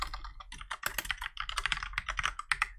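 Rapid typing on a computer keyboard, a dense stream of close, crisp key clicks with uneven rhythm and a few heavier strokes, no voice over it.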